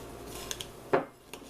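Breadcrumbs mixed with butter in a bowl, a few light clinks of a utensil against the bowl and one sharper scrape near the middle, close and quiet.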